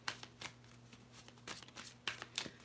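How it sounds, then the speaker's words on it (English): Oracle cards being shuffled, a soft, faint series of quick riffling snaps and papery flicks in irregular bursts, close and without talk. "so I'll just keep shuffling"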